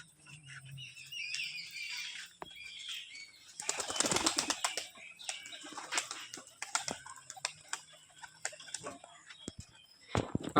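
Wings flap in repeated clattering bursts, a loud flurry midway and more scattered flaps later, with a voice speaking faintly at times, from pigeons lined up in a pigeon loft.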